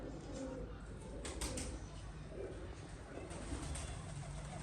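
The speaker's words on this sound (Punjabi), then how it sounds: "ਲਓ ਜੀ ਆ ਗਏ ਕਬੂਤਰ ਬੈਠਣ ਹੁਣ" Soft, low cooing of pigeons runs through the whole stretch over a steady outdoor hum, with faint flutters and no clear talk.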